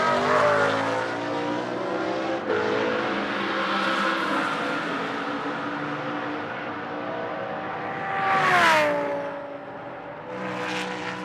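A Reiter Engineering Lamborghini race car in free practice roars past at close range with a loud, sustained engine note. The pitch sweeps down and the revs rise again as it heads into the final corner.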